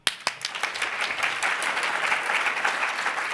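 Audience applause at PyData London 2022 lightning talks, starting with a few sharp early claps then swelling into a steady, dense round of clapping from a roomful of attendees, fairly close and even throughout.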